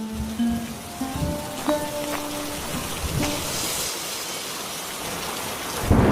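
Steady rain pours down in a cartoon scene, with a few rolls of thunder rumbling through and one sharper crack near the end, the downpour continuous and fairly loud throughout.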